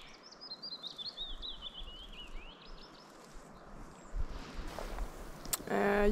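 Birds chirp and twitter faintly in spring woodland at a lakeside hammock camp in Bergslagen, Sweden, a thin scattered song over steady background noise, with louder rustling and knocking near the end.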